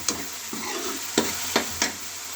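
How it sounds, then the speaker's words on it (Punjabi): Spice masala for rajma fries in oil under a constant hiss. A utensil knocks against the pan in a few sharp taps, and one longer stirring scrape comes early. The pan is nearby and no one speaks. "ਜਦ ਤੱਕ ਤੇਲ ਨਹੀਂ ਛੱਡ ਦਿੰਦਾ ਤਦ ਤੱਕ ਅਸੀਂ ਇਹਨੂੰ ਭੁੰਨਾਂਗੇ"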